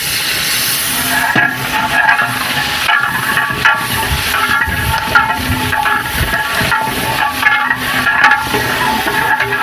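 Tomato masala for chana aloo pulao fries in a pan while being stirred, giving a loud, close sizzle and crackle with irregular scraping and clattering of the spoon throughout, without talk.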